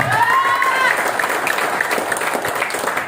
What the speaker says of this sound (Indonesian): tepuk tangan untuk PT BES